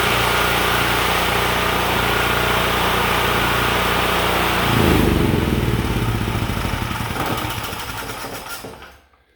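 A Titan 8000W portable generator runs loudly up close after starting, a steady buzzing engine drone that shifts in tone midway and then winds down, fading out at the end.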